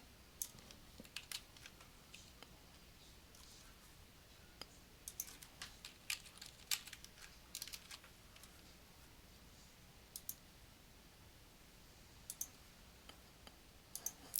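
Soft, sparse keyboard typing with irregular clicks and short bursts of keystrokes, close by in an otherwise quiet room.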